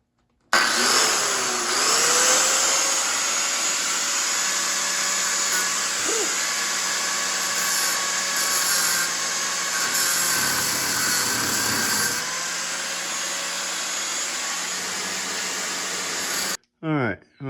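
A power tool cuts through the steel frame of a Jeep YJ rock crawler, a loud, steady high-pitched whine that holds for about sixteen seconds with slight shifts in pitch before stopping abruptly.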